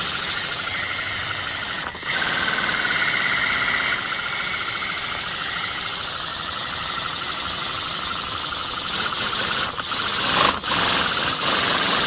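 A small inline four-cylinder model engine runs on compressed air from an air compressor, idling with a steady, close hiss and fine vibration. A few brief sharp bursts break in near the end.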